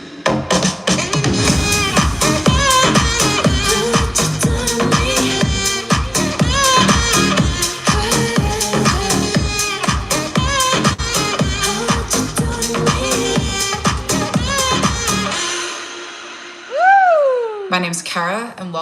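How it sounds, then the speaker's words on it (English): A deep house track built from scratch plays loud and close, with a steady pulsing four-on-the-floor beat, dense layered synths and vocal-like melodic lines, fading out near the end before a short burst of voice. "Today I'm producing a deep house song from scratch, and the finished results sound like this."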